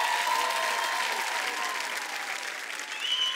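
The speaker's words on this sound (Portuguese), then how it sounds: "Eu acho que merece uma grande, grande salva de palmas." A theatre audience at a Portuguese singing-competition show breaks into loud, sustained applause that carries on unbroken throughout, with a faint cheer rising near the end.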